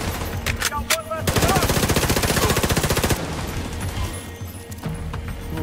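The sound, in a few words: gunfire in the video game The Division 2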